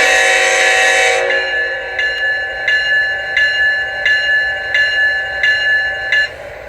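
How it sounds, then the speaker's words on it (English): Bell and horn from the sound system of a Scale Trains ES44AC model diesel locomotive: a loud sustained horn chord gives way to a steady bell ringing in an even rhythm of about eight strokes, close and clear, with no talk. "Of course, you could hear the bell there and the horn."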